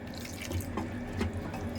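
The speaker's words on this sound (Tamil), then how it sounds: "இப்போ இந்த தண்ணியெல்லாம் கீழே வடிஞ்சிட்டு இருக்குது பாருங்கள்" Water drains from soaked sago through a strainer as a chilled fruit drink is made. Close, continuous trickling and dripping runs with no pauses, fairly loud and alone.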